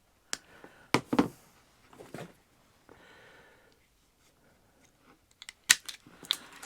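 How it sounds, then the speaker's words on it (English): Electrical line cable snipped in half for an inline light switch, a few sharp, close cutting clicks and crunches separated by quiet gaps and faint handling noise, with no speech. "All we have to do is just cut the line cable in half."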